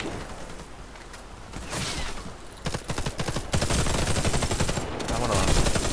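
Gunfire in the military shooter game Warface: rapid automatic bursts and overlapping shots, loud and close, building from sparse cracks into dense fusillades.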